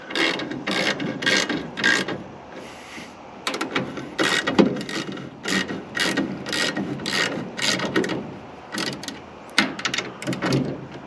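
A ratchet wrench clicks in quick repeated bursts, tightening down the mounting bolts of an ADARAC truck rack. The strokes are close and steady with brief pauses between runs, and no talk is heard.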